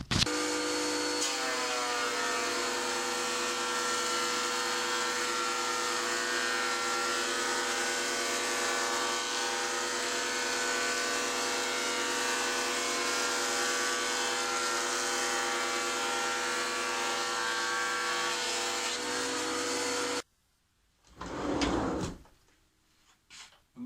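A Makita 2012 thickness planer with freshly changed knives runs with a steady motor whine and layered hum for about twenty seconds. It then cuts off abruptly, followed by a brief clatter and near silence.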